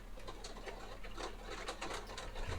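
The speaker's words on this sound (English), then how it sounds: "we do get bird chirping sometimes" Birds chirping faintly in the background, soft repeated calls spread across a low steady room hiss with no talking.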